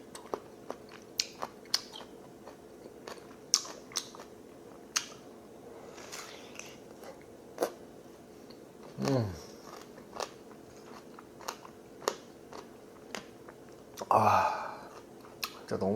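Someone bites into and chews raw melon rind up close, making scattered crisp crunches and snaps with louder wet bursts of chewing, while a person talks in between.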